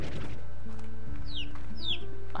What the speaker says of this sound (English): Oh, they're stony chicks.